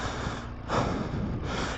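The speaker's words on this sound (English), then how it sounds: "Got me breathing though." A motorcycle rider breathes heavily and audibly after a challenging stretch on a BMW adventure bike along the Gunnison River, with short gasping, snort-like breaths close to the microphone over steady wind noise.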